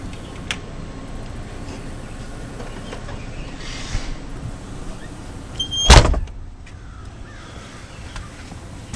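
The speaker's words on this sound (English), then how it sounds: "I gotta close that door, because we're letting out air conditioning" An indoor door is pulled shut to keep air-conditioned air from escaping, giving one solid thud midway through against a steady background hum, with no talking.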